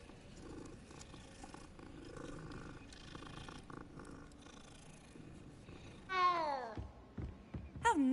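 A big cat in the Hogwarts Legacy video game gives a low, rumbling purr-growl over steady game ambience, rising into louder roaring bursts near the end.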